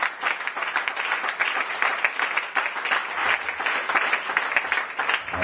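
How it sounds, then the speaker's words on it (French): A church congregation breaks into sustained applause, a dense steady wash of many hands clapping together at fairly close range, continuing evenly without pause and with no clear speech on top. "Acclamons le Seigneur."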